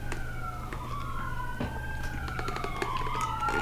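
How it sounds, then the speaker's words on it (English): Emergency vehicle sirens wail through a town, their rising and falling tones sweeping steadily and overlapping throughout over a constant background rumble. "having sirens go off again"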